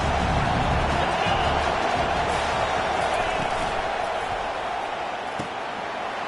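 Steady roar of a college football stadium crowd at a Tar Heels versus NC State game, a dense, continuous wash of massed voices that holds at full strength throughout without breaks.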